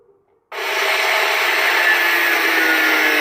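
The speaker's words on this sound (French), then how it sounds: "Là, on va poncer toute la lame pour qu'elle soit assez lisse" A power sander starting up on the metal blade of a homemade sword, jumping to a loud continuous grinding rasp that holds steady and close, with no talking.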